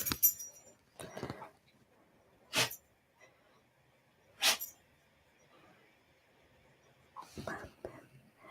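Two short, sharp sneezes burst out a couple of seconds apart in a quiet room. Soft, whispery voices murmur before and after.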